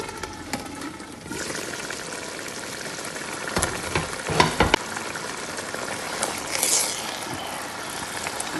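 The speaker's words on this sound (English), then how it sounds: "Okay, it has started boiling. You hear that?" A pot of Nigerian jollof rice cooks on the stove, giving off a steady sizzling, bubbling hiss, broken by a few brief knocks and scrapes midway.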